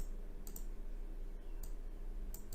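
Mouse clicks on a computer while setting up a Zapier automation, a few sharp, isolated clicks in a quiet room with a low hum beneath.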